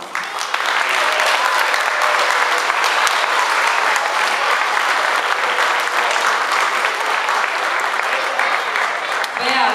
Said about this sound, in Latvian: ar skaļiem aplausiem un lielu paldies sagaidīsim skolotāju Beātu